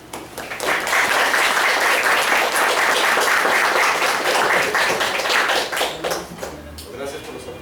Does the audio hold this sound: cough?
no